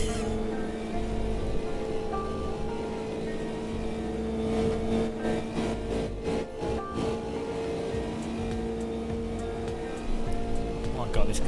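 A race car engine drones steadily in the Automobilista 2 racing game at Monza, a fairly loud buzzing tone with a slight rise near the end, while someone talks over it.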